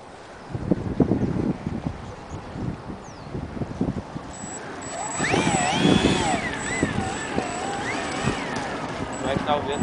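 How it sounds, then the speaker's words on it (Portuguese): Strong wind buffets the microphone outdoors in loud, rumbling gusts that swell and fade, with someone talking over it and a thin whining tone rising in the second half. "Cara, o vento tá muito forte,"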